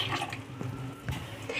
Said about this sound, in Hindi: तो डालते हैं दूध को।